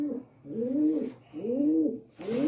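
Racing pigeon hens coo in a loft, giving three close, repeated rolling coos with short pauses between them and no talking over them.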